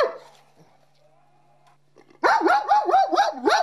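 Dogs barking in a Bulgarian village, a quiet stretch with a faint tonal whine giving way to a loud, rapid run of repeated barks near the end, with no voices.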